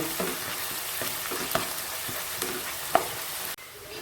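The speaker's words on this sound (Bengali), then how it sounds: "পেঁয়াজ কুচিগুলো হালকা ব্রাউন করে ফ্রাই করে নিতে হবে।" Steady hiss and crackle of chopped onions frying to light brown in a pan, with a few sharp clicks of stirring, then the sizzle drops off abruptly near the end.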